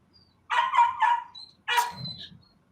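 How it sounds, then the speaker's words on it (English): Dogs bark outdoors, heard through an open window: a quick run of three barks, a pause, then one more bark trailing into a whine, fairly close and with no talk over it. "Y'all hear the dogs barking?"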